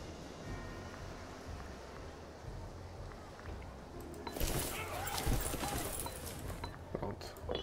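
Horse archer cavalry hooves in Imperator Rome, a soft steady clip-clop of many riders running under a constant game soundscape, swelling louder partway through with a busier rush of hoofbeats.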